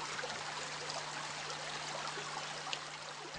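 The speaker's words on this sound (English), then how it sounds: "Swarga is one such stream." A mountain stream flowing steadily, its water making a continuous broadband rush and trickle with no pauses, heard alone without any voices.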